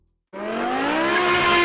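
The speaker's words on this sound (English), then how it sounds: "The S85 V10 screams like an F1 car from the early 2000s, and with the right exhaust, it's one of the best-sounding BMWs ever made." A BMW M6 E63 with its S85 V10 engine revs up suddenly after a moment of silence, a loud, high-pitched, rising scream held steadily and close.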